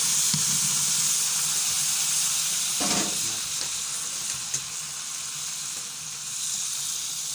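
Tomato goes into hot oil for a chicken korma and keeps up a loud, continuous sizzle with soft stirring scrapes and a brief louder burst partway through. No one talks.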